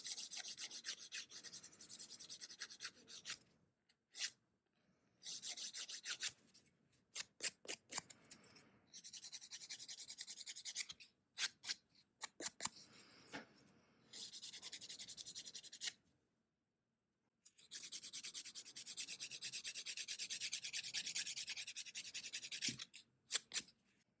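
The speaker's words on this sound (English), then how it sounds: "there was absolutely nothing wrong with filing back and forth" A nail file rasps against fingernails in quick back-and-forth strokes, bursts of a few seconds each separated by short silences and single scratches, close and fairly quiet.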